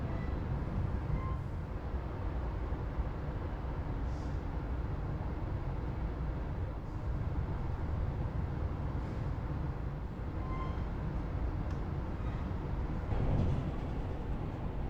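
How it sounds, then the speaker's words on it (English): A continuous low rumble of a train rolling along the tracks in Belgium and the Netherlands, steady and fairly loud from inside the carriage, with faint clicks over rail joints. "Just outside town, the train crosses the River Meuse and its associated navigation on the Buggenham Railway Bridge."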